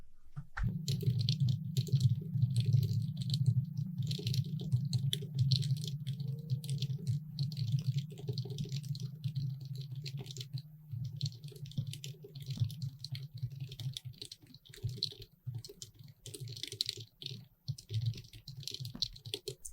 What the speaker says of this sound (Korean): 타이핑을 먼저 해주시는 거예요.